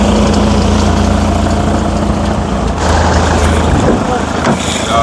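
A car engine idling with a steady low rumble and a constant tonal hum; loud and close, with a brief shift partway through, and a voice briefly present.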